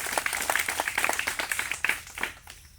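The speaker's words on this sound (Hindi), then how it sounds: "आप एक बार इनके लिए ताली बजा करके" An audience claps for speakers at a gathering in a village council setting, dense uneven hand claps at moderate volume that thin out and fade toward the end.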